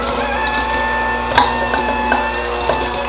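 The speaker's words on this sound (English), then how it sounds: "Now we're going to mix and add at the same time" An electric mixer whirs steadily, beating buttermilk into a chocolate layer cake batter, a close mechanical drone with a rattling, ratchet-like texture and a few brief knocks of the beaters against the bowl.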